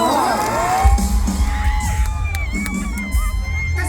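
Loud crowd clapping, cheering and whooping to welcome a performer at a Thai mor lam comedy show on tour, with shouts and a few sharp bangs over a thumping low backing.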